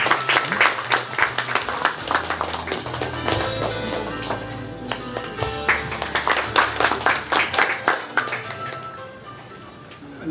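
An audience at a forum on Saudi Arabia's NEOM City applauds to welcome a keynote speaker, with sustained loud clapping from a large crowd that swells and then thins out toward the end.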